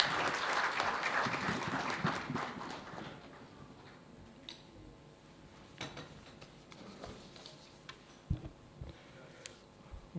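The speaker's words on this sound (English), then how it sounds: "With a round of applause, please." Audience at a startup event applauding, a brief burst of clapping that quickly thins out into scattered claps, clicks and small knocks in a quiet hall.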